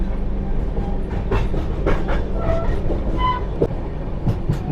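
The Puri to Ahmedabad Superfast Express rolls along at night through a turn, a loud, steady rumble with rhythmic clickety-clack from the wheels and rail joints, heard from on board.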